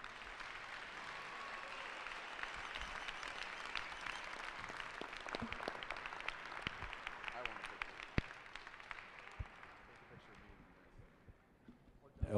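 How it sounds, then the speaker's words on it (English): Crowd in a gym at a high school basketball senior night applauding the seniors, a sustained roar of clapping and cheering that holds steady for several seconds and gradually thins out toward the end. "please give these guys one more big round of applause"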